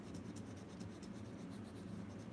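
A colored pencil rubs across paper in a soft, continuous scratching with faint rhythmic strokes, close and quiet.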